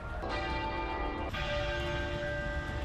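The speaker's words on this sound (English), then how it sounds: "bells tolling 96 times, one for every year of her life" Church bells toll in mourning for Queen Elizabeth II across the UK: two rich, ringing strikes a second apart, each leaving a long humming decay over faint background noise, moderately distant.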